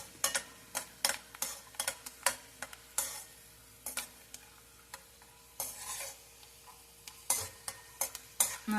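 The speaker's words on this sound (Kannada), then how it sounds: "ನಾನು ಕಡಲೆ ಬೀಜನ ಫಸ್ಟ್ ಹಾಕೊಂಡ್ಬಿಟ್ಟು ಫ್ರೈ ಮಾಡಿ ಸಪ್ರೇಟ್ ಎತ್ತಿಟ್ಕೊತೀನಿ" Peanuts fry in a pan of hot oil over a low flame for mango rice, with a soft sizzle beneath a steady run of light ticking clicks as a spoon stirs them. Quiet and close, with no talking.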